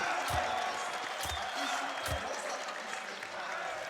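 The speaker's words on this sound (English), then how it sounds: "You can hear the support for the Na'Vi players." A crowd at a Counter-Strike esports final cheers and applauds steadily throughout, a broad roar with a few louder swells, while a commentator's voice talks over it.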